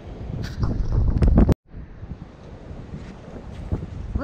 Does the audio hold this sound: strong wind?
yes